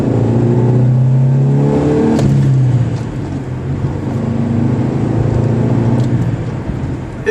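A 1993 Ford Ranger with a 140 hp V6 accelerates in second gear, its engine note climbing loudly and steadily close by, then easing to a lower, rougher drone after a shift in revs.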